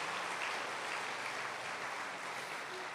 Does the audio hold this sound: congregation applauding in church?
yes